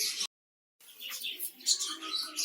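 Budgerigars in a breeding colony aviary chirp and twitter in busy overlapping bursts, bright and close, after a brief silent gap at the start.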